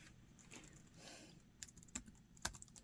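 A computer keyboard is typed on in quick, irregular bursts of light clicking keystrokes, close and fairly quiet, with a few sharper taps toward the end and no voices.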